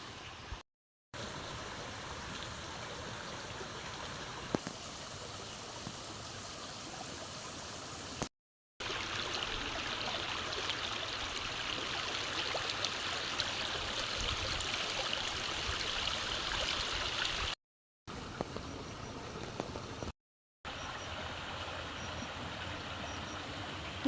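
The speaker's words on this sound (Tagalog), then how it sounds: "Ito po itabing sapa laang." A small stream flowing through rural countryside, a steady soft wash of running water heard from nearby, faint and continuous, with several brief cuts of silence.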